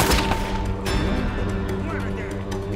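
Gunfire in Uncharted: Drake's Fortune plays as dense, continuous battle noise with sharp cracks and bursts throughout, mixed with game music and a voice talking over it.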